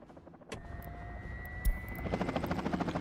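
A helicopter in the management game Workers and Resources starts up with a sudden rotor thump, then settles into a rhythmic beating chop and steady whine that grow slightly louder, with a sharp click partway through.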